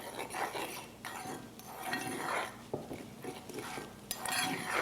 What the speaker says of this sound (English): Then we're going to stir those together.